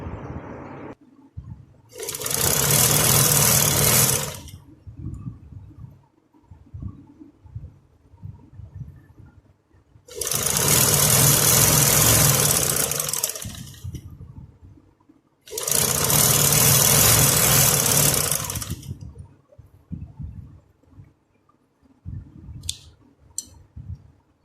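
Sewing machine running three separate bursts while stitching the seams of a plain kurti (kamiz), each burst a loud steady whir of a few seconds with quiet handling noise between.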